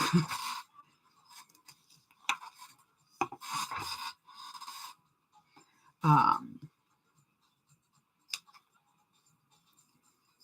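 Scissors snip through fabric for a zip-around wallet, carefully cutting toward a triangle notch in a few short, close bursts separated by quiet pauses.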